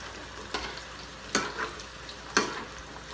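Diced potatoes and carrots fry in hot oil for menudo, a steady crackling sizzle broken by three sharp scraping stirs at regular intervals, close and fairly quiet, with no voices.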